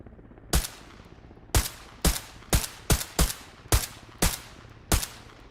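Gunfire in the Arma Reforger video game: about nine sharp, loud single rifle shots fired close by at an irregular pace, each followed by a short decaying echo, with no other sounds between them.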